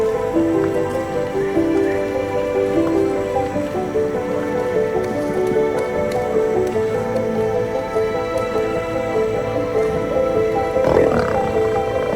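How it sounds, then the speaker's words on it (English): A lion roars on the Serengeti savannah, a loud, sustained, resonant call over steady ambient background. "A roar echoes across the savannah, a call of power and hope."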